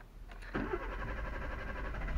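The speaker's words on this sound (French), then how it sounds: "avant de démarrer le moteur" A car engine cranks and catches about halfway through a quiet moment, after its fuel tank was cleaned and the pump reprimed, then settles into a low, steady idle close by.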